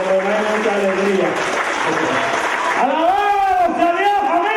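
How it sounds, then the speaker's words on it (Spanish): A church congregation applauds during a Spanish-language worship service, a dense steady clapping throughout. A voice carries over it, rising into sung or shouted praise in the second half. "Un aplauso a Jesucristo."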